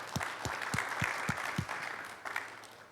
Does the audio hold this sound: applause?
yes